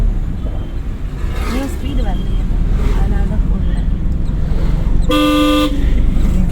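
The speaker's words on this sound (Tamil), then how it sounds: "இன்ஜின் நாய்ஸ் கேட்குது." A car engine hums and roars steadily during a driving lesson, loud and close from inside the cabin, with a short horn toot near the end and talk over the engine noise.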